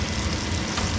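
Bacon frying in a pan, a dense, even crackling sizzle that holds steady and close for the whole moment, with no voices.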